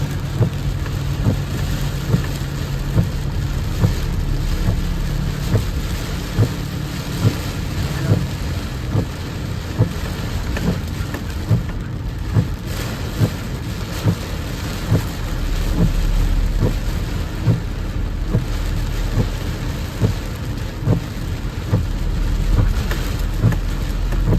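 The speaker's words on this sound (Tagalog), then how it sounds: "itong portion na to medyo malakas na naman yung ulan." Steady heavy rain pours continuously at a fishing spot in Saipan, a dense loud hiss with a low rumbling undertone and occasional sharper drops, no voices.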